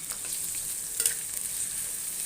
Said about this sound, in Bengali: এবার পেঁয়াজ কুচি, মরিচ কুচি এবং রসুন কুচিগুলি দিয়ে দিব তেলের মধ্যে